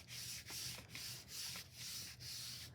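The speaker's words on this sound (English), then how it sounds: "I'm rubbing, getting all of the edges, all the corners, making sure the middle." Paper being rubbed by hand onto a gelli printing plate gives a soft, close scrubbing sound in about five even strokes, with no talk.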